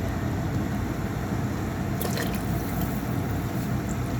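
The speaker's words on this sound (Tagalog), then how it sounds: "Ilagay na natin yung chicken broth natin." Chicken broth poured into a cooking pot gives a steady, continuous liquid splash and trickle throughout, fairly loud and unbroken, with a brief brighter splash partway through.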